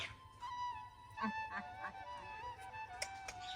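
A bird gives repeated honking, goose-like calls, several short squawks in a row, faint but clear above a quiet background.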